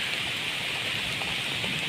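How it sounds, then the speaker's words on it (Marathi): Heavy rain pours steadily over an outdoor yard in Konkan during an unseasonal downpour. It makes a dense, even hiss of drops that stays constant throughout, with no voices. "पावसान पण लय जोर धरला आता फोन पण भिजता माझा"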